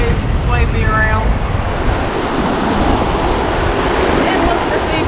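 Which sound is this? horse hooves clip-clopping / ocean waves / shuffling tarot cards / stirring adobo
ocean waves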